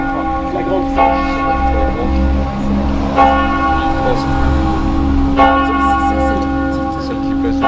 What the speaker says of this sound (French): C'est celle qui pèse une tonne, quoi.